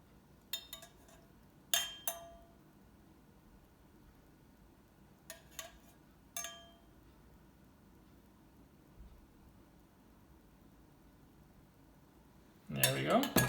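A spoon clinks against a bowl while broth is ladled in, giving several sharp, isolated metallic taps spaced apart in a quiet kitchen, followed by a louder clatter of dishes at the end.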